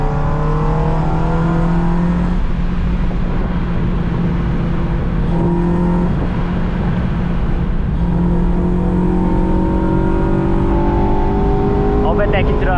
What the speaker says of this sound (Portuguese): Vamos dar um acelero aqui.